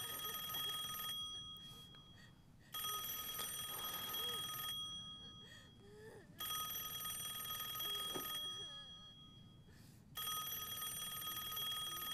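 An old-fashioned telephone bell rings in long repeated bursts with short pauses between them. The late-night call goes unanswered in a quiet interior of a drama set in the late Qing and early Republican era.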